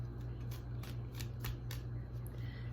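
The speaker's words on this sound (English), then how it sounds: "I'm shuffling and just like they explode everywhere." Tarot cards being shuffled by hand, a close series of crisp riffling bursts and soft slaps repeating at an irregular pace over a low background hum.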